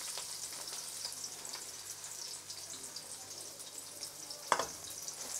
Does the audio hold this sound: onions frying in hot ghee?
yes